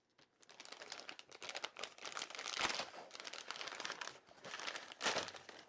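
A subscription fishing-tackle box being cut open, with continuous crinkling, rustling and scraping of packaging and cardboard plus two louder tearing bursts, close up and without talk.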